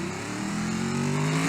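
Moonhawk car in a BeamNG quarter-mile drag race video game, its engine revving hard and rising steadily in pitch as it accelerates, loud and close with no talk.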